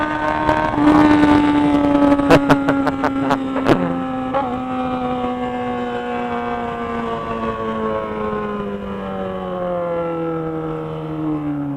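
Yamaha XJ motorcycle engine revving hard with a few sharp throttle blips, then holding a steady high drone that slowly sinks in pitch as it winds down.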